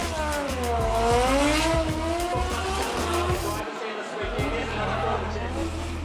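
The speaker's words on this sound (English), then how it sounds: "Former Pro Sport champion Nico Reed going half a point higher for 6th in the Evergreen Tyres Nissan S15." Nissan S15 drift car at a D1NZ drifting round in Tauranga, its engine wailing and rising while tyres squeal and skid continuously, with commentary spoken over it.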